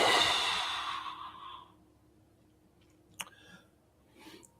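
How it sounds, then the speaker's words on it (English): A single slow, deep breath drawn out through the nose fades away, followed by quiet with a couple of faint clicks, close and alone. "Slight, slow, deep breathing through the nose."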